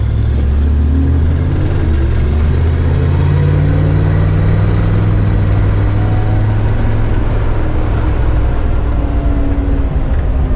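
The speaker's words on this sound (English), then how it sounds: "We use the engine to help bed the brakes too" A Toyota Land Cruiser engine is braking to bed in newly converted disc brakes; a loud, steady, close engine drone with slowly shifting pitch runs throughout, no voices.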